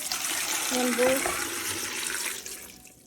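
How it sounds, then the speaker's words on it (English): Water pouring from a tap into a bowl of apples for homemade apple cider, a splashing rush that runs steadily for a few seconds and then tapers off. "So now we're gonna add the water."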